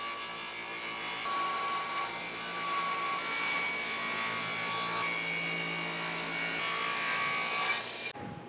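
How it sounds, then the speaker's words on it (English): Continuous hand-sawing on wood as four sides of wooden table legs are tapered, a steady rasping stroke that runs loud and close for about eight seconds before stopping abruptly near the end. "we're gonna taper all 4 sides of these legs"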